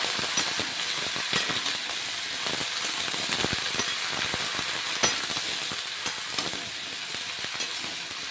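Bottle gourd fries in a pan with a little oil and spice, a steady sizzle broken by scraping and clattering stirring strokes, close and continuous, no voices.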